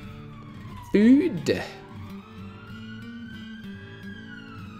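A police car siren passes outside, sweeping up and down loudly at first, then holding a long, wavering tone that fades back behind someone talking quietly indoors.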